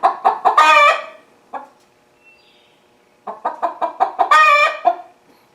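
In a garage, loud, close chicken calls in two bursts: quick clucks rising into a drawn-out squawking cry, separated by a short quiet pause.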